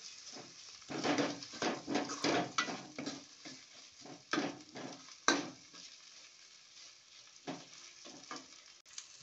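Stone-ground village spices are stirred into a sizzling pan while cooking chicken, giving irregular bursts of scraping and frying with quiet gaps between strokes, all close by.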